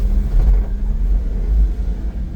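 A two-wheel-drive automatic Mitsubishi rumbles steadily while driving and turning, with a low, continuous engine and road drone up close and no talking.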